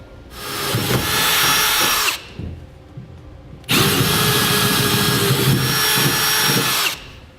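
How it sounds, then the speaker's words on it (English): Power drill boring holes for Curt fifth wheel rails on a 2016 Ram 2500, two loud sustained bursts of whining, grinding drilling separated by a short pause with low rumble. "we'll go ahead and drill them out to the size indicated in the instructions"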